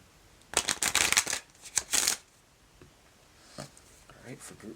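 Oracle cards from an Earthbound Oracle deck are shuffled in a couple of quick riffling bursts, close and fairly loud, followed by quieter handling and soft rustles.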